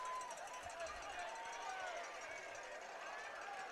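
Football fans in the stands at a high school game, Spring Hill Broncos at Eudora Cardinals, keep up a steady distant crowd roar and babble with scattered voices, continuous throughout.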